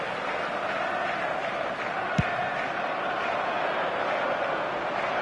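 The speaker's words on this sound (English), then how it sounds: "the crowd are reacting to that now." A football stadium crowd during a match, a continuous broad roar of many voices rising as momentum shifts, steady and distant-sounding with one brief sharp thump partway through.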